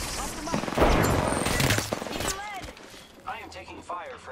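Bursts of rapid video-game gunfire in a squad shooter match, loud automatic fire with sharp reports that trail off into quieter distant shots and a brief whistling sound.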